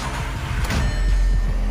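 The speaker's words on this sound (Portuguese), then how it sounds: "Vamos ver o barulhinho da saveira." A Volkswagen Saveiro pickup's engine idles close by, a steady low rumble with irregular low pulses and no talk over it.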